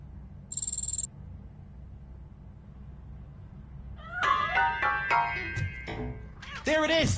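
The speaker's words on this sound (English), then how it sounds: "That cat must be hiding inside." Cat meowing inside a piano in RoboCop: Rogue City, a few near, wavering cries that rise and fall in the second half over a low ambient hum, after a short electronic tone.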